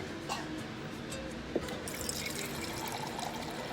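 Water pours into a pan of taco seasoning mix with a steady liquid trickle and splashing, continuous and close, with a brief drip sound partway through.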